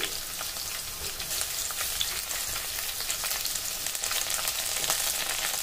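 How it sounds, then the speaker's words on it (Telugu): Green chillies frying in hot oil for a ridge gourd and tomato chutney, a steady close sizzle and crackle lasting throughout, with light stirring and no talk. "వీటిని ఒక 2 to 3 మినిట్స్ పచ్చిమిర్చి వేగే వరకు వేయించుకోండి."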